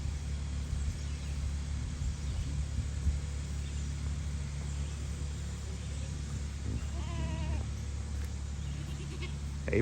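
Goats bleat faintly near their loafing shed on a farm, one or two short calls standing out against a steady low rumble of background noise, with no voices.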